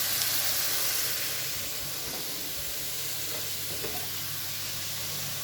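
Guinea fowl and vegetables sizzle steadily in a hot pan, a dense, continuous hiss of frying that is close and even, with faint stirring clicks and no voices.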